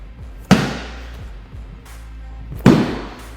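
A slam ball is slammed onto the floor during a HIIT workout, giving two loud, heavy impacts about two seconds apart, each with a short booming decay.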